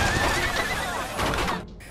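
Horse neighing as a horse-drawn carriage arrives at a city gate in an animated series, a loud, close whinny with hoof clops beneath, ending abruptly.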